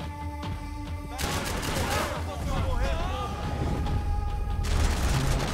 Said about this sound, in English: こんな LMG の弾を ぶち当てられたら速攻死んじゃうじゃん